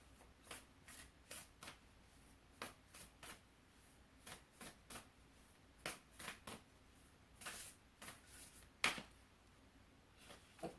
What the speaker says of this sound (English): I'm going to pull a card from the Starseed Oracle.